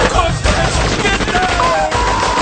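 A fusillade of gunfire crackles in a dense, rapid burst of overlapping shots, loud and close throughout the firefight scene.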